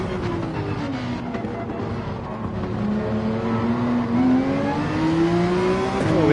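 Ferrari race car in Gran Turismo 7 at Spa, engine droning and revving up through gears with rising pitch, loud and continuous, ending with a sharp shift.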